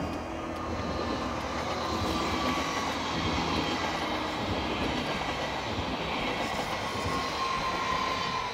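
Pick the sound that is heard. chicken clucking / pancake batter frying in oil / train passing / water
train passing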